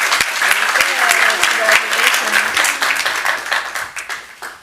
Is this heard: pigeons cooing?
no